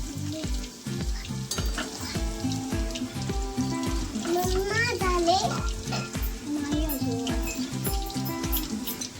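Potato French fries deep frying a second time in hot oil to crisp them, a steady bubbling sizzle that runs throughout beneath rhythmic background music.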